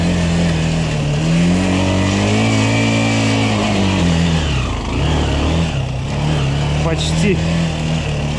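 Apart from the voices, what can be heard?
Minsk X250 motorcycle engine riding over rocks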